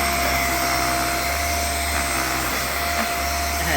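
A Raycop Lite vacuum cleaner deep-cleans a bed, running as a loud, steady motor whine with an airy rush and slight shifts as it moves over the mattress.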